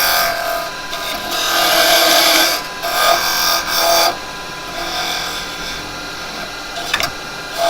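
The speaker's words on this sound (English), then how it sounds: "I'm putting the chisel down below the hole, well, below the bottom," A woodturning chisel scrapes and cuts at the bottom of a drilled hole in spinning wood, giving a loud, continuous rasping hiss that swells in several bursts and then eases off.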